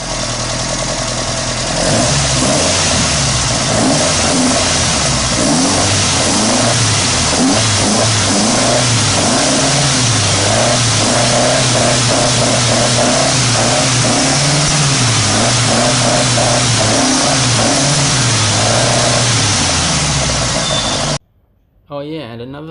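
An old Ford Escort MK2 RS2000 engine runs loud and close, its revs climbing and falling repeatedly over a steady idle before it cuts out abruptly near the end.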